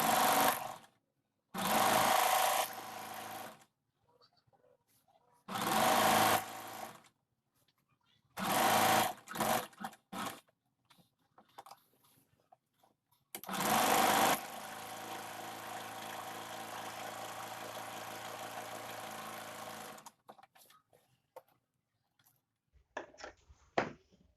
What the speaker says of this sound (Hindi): तो चलिए अब इसमें सिलाई लगा लेते हैं।